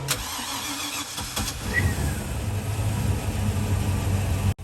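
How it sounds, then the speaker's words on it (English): A 2005 Chaparral 240 Signature boat's engine cranks with a few sharp clicks, catches, and settles into a steady low idle that runs on close by. "But here we're going to start the engine for you."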